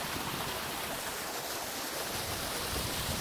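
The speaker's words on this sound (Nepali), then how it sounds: "यहाँ पर चाहिँ सुँगुरको मुखबाट पानी आइरहेको" A steady, even rush of water pours from the mouth of a pig statue at the Tirta Gangga water garden in Bali, continuous and fairly soft with no voices over it.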